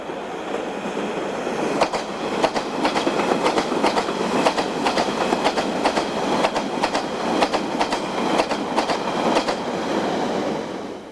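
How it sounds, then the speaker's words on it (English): A London Underground Central Line train of 1992 stock rolls past underneath, a steady rumbling roar with repeated clickety-clack wheel beats over rail joints that runs for the whole stretch without any voices. "a Central Line service formed of 92 stock passes underneath"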